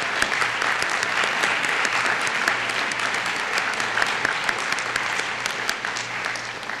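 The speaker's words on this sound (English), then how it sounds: "Hey, let's give them applause." Steady, dense audience applause from a full hall at a Bread for the World democracy symposium, a continuous wash of many hands clapping at even volume throughout.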